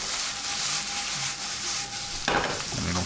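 A spoon stirs mushrooms coated with flour in a pan, a steady scraping and rubbing at close range with a soft sizzle underneath, ending in a sharper clatter near the end.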